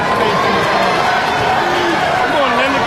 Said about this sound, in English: Rural Maryland doesn't cheer quite as loudly as the New York big city types.